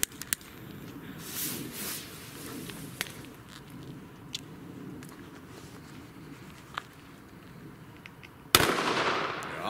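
Funke Böller A firecrackers set off outdoors; sharp scattered pops and cracks sound at a distance over a low background, then a louder, closer burst near the end.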